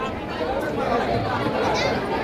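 Dense, steady murmur of a large crowd chattering at the Ekvira temple, many overlapping voices close around, with no single voice standing out.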